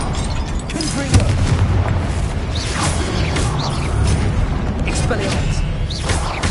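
Repeated heavy explosion booms and mechanical clatter from spellcasting in a Harry Potter video game, dense and continuous with rumbling low end, with a voice shouting over the action.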